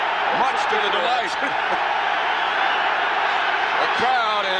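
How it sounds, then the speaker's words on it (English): A football stadium crowd roars loudly during the 1985 NFC Championship playoff game between the Los Angeles Rams and the Chicago Bears. The dense, continuous cheer carries whoops on top, and a commentator talks over it. "The crowd is extremely loud"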